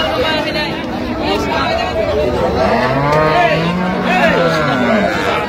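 Cattle moo loudly and repeatedly at a busy Bangladeshi livestock market where cows and calves are sold, drawn-out lowing calls rising over a steady hubbub of crowd chatter.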